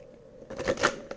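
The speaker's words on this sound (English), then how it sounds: "One more shuffle." Tarot cards are shuffled once up close, a quick papery riffle and flutter that rises after a moment of near silence and ends with a soft tap.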